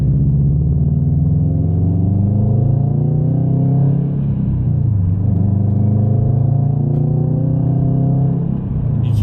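Engine of a 2020 Subaru STI, a loud, close, deep rumbling drone whose pitch rises and falls slightly as the revs shift, running continuously without talk.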